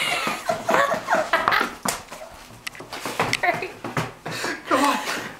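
A dog whimpers and yips in repeated high, short cries indoors, fairly close, mixed with a person talking to it in an excited voice.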